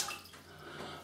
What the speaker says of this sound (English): let's wet this brush